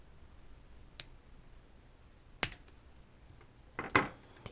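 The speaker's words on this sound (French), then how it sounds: "Pince coupante. On coupe le bitonio." Wire cutters snipping a small plastic part off a Happymodel Moblite drone canopy, heard as a few sharp isolated clicks spaced about a second apart, the last one a slightly longer crunchy snap, in an otherwise quiet room.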